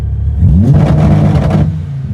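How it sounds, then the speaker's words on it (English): A Dodge Viper V10 engine on a MoTeC Gen 5 launch control setup gives a short, close, loud rev that climbs, holds at a raised rpm for about a second and then drops away to a lower rumble. "I'm going to do the launch control again"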